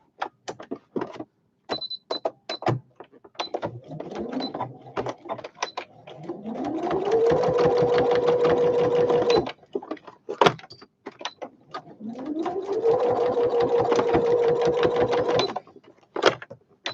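Sewing machine stitching a zigzag seam on a fabric toiletry bag: two bursts of rapid mechanical clatter, each revving up to a steady whir and then stopping, with small clicks and handling noises between them.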